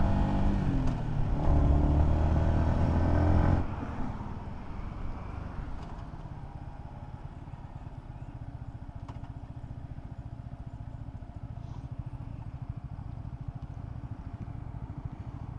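A Yamaha XSR125 motorbike rides along Dartmoor roads, its engine loud and revving for the first few seconds, then settling into a quieter, steady drone with road and wind noise.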